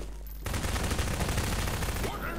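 Rapid bursts of gunfire from the Garry's Mod Prop Hunt video game, loud and dense, with overlapping shots running continuously for about two seconds.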